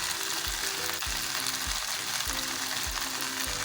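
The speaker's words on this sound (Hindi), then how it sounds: "वेजिटेबल और चिकन बहुत अच्छे से फ्राई हो चुकी है।" Vegetables and chicken fry in a hot pan with a dense, close sizzle, while a spatula scrapes and stirs in a steady rhythm about every half second; no voices.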